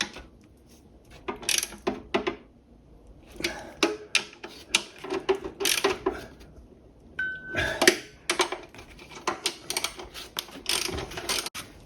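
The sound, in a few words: socket wrench tightening battery terminal nuts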